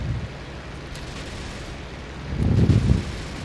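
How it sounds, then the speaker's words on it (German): A distant explosion in the IL-2 Great Battles flight combat game, a low muffled boom swelling briefly near the end over steady wind-like engine rumble. "Der ist explodiert."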